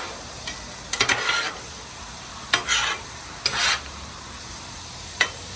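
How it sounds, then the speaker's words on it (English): Seasoned meat being mixed on a hot griddle for Louisiana-style jambalaya pasta: several bursts of scraping stirring with bright sizzle, spaced across the clip with quieter gaps, close and fairly loud, no voices. "mix all that seasoning up into that meat"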